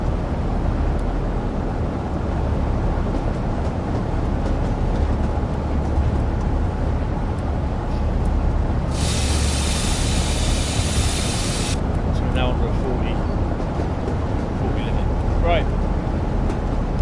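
A locomotive rumbles along the track in the Train Sim World game on the Peaks route, a steady low drone and rolling noise as it slows on a grade, with a burst of hiss partway and a person talking over it.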